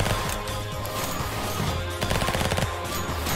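SMG gunfire in a video game, rapid rattling bursts that run almost without a break, moderately loud and close, with no talk over them.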